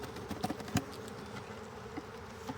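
Queenless honeybee colony during a hive inspection in Pittsburgh, a dense close buzzing hum with a few bees zipping past near the ear, continuous and moderately loud with no talking.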